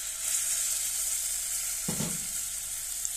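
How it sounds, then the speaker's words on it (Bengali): Tomato sauce hitting a pan of fried garlic sets off a steady hiss of frying, with a short burst of louder sputtering midway as the sauce goes in. "আমি টমেটো সসটা দিয়ে নিতেছি"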